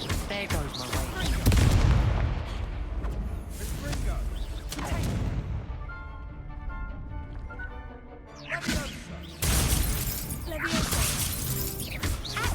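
The Incendio fire spell in Hogwarts Legacy lands as several loud crackling, whooshing blasts with sharp impacts, then a quieter stretch before another burst of fiery noise. A voice speaks over parts of it.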